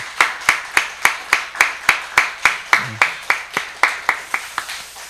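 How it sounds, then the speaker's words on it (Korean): A church congregation at a Sunday worship service claps in a steady, even rhythm: about a dozen and a half sharp, loud beats in unison at a brisk regular pace, with no voices on top. "우리 뜨겁게 박수로 격려해 주시기 바랍니다"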